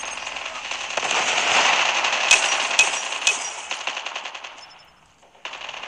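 A sniper rifle auto-firing in Call of Duty Mobile, with a dense rattling burst of gunfire and several sharper shots over a continuous crackle, fading out before a brief return, no talking.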